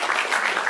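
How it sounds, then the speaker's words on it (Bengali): A recitation-evening audience bursts into brief, dense applause, a short wash of many hands clapping at once. "তাকে একবার হাততালি দিয়ে ধন্যবাদ জানাই"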